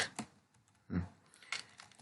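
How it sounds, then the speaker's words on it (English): Typing on a computer keyboard comes as scattered soft key clicks and one heavier thump, close and fairly quiet, with no one talking. "just typing in main, just defining the code"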